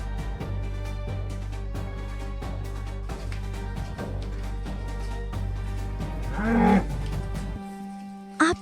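A large, strong water buffalo gives a long, deep moo that swells near the end, over a steady droning background and layered sound, ending in a low held tone.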